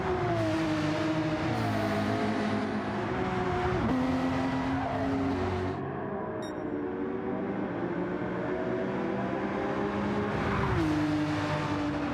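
A Porsche race car's engine roars steadily in a racing video game's Vegas Cup Series event, its pitch climbing and dropping sharply around shifts, continuous and fairly close throughout.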